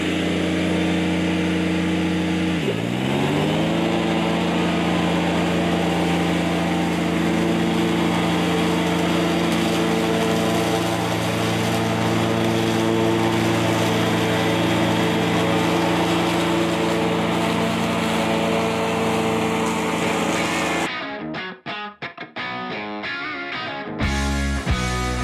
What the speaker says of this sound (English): I'm gonna get my lawnmower down here. I'm gonna clear this opening, get it as big as I can.